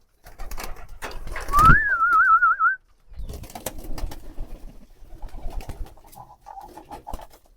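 Sirazi pigeons coo close by during feeding time. Low, repeated throaty calls come in several bursts across the stretch, separated by brief pauses.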